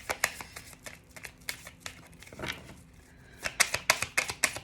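Tarot cards are drawn and shuffled by hand in quick, crisp riffling bursts, with a short pause in the middle before a brisk run of close, papery flicks resumes.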